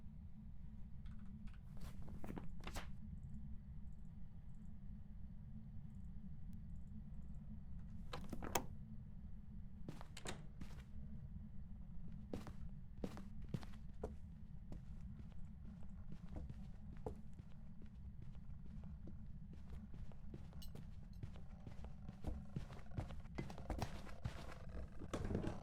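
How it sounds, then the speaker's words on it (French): Footsteps in the horror video game Phasmophobia, sharp irregular taps heard faintly over a constant low hum, scattered and spaced out with occasional clusters. "Les bruits de pas sont pas normaux là!"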